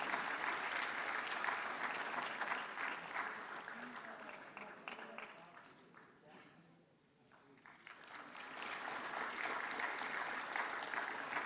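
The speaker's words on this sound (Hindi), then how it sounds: "जोरदार तालियों से इनकी हौसला अफजाई कीजिए।" An audience at a national awards ceremony for the empowerment of persons with disabilities applauds an award recipient with sustained clapping that fades briefly midway, then swells back to full strength.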